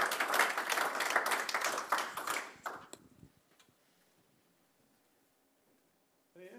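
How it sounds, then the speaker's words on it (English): Small-room applause at the close of a tech meetup talk, a few seconds of close, lively clapping that dies away into near silence, with a brief voice at the end. "one big applause"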